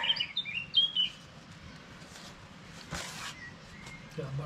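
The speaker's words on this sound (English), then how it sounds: "Got a bird's laughing at me." A bird calls outdoors in a few bright chirping bursts near the start, fairly faint against background noise and later handling sounds while a hydraulic hose job on a Kubota backhoe goes on.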